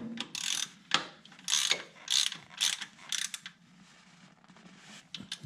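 A hand ratchet tightens a fitting during a fluid service on a 5th-generation Toyota 4Runner, giving several quick bursts of close, crisp clicking separated by short pauses and then fading to faint clicks.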